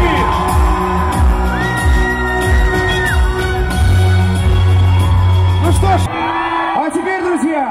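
A big outdoor crowd at an Olympic torch relay event claps, whoops and shouts loudly and continuously, with amplified announcements and music running through the noise.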